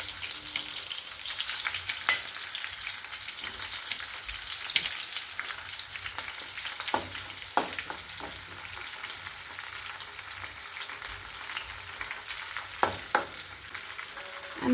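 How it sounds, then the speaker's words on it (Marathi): Green chillies and curry leaves fry in a pan of oil with a continuous close sizzle, punctuated by occasional scrapes and taps of a spoon stirring them, and no talking. "मिरच्या थोडंसं परतून घ्यायचं. त्याच्यानंतर कढीपत्ता टाकायचा."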